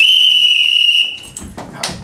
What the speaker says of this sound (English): So ready for on the whistle?